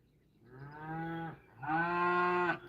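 Cows mooing in a field, two long, loud, close moos in a row, the second stronger and sustained, with no talk over them.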